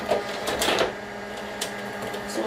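A Glowforge laser cutter runs with a steady mechanical whir, joined by a few brief clicks and bursts of movement as it starts working on a wood and acrylic round sign.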